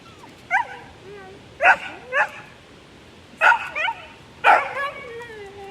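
A dog barking outdoors in several sharp yips and barks spaced irregularly, a few with a whimpering edge, moderately close and clear over a quiet background.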